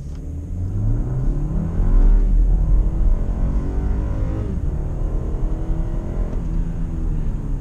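A 2020 BMW X3 in sport mode with paddle shifting accelerates, its engine a loud steady rumble with rising harmonics climbing through the gears, heard from inside the cabin.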